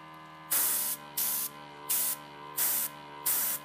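An airbrush blowing black fluid acrylic paint in five short hissing bursts of air, evenly spaced over a faint steady hum.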